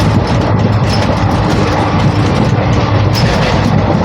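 Constant loud, dense rumble and roar aboard a moving passenger train, heard from a seat beside the onboard toilet, with a steady rattling running through it and no clear voices.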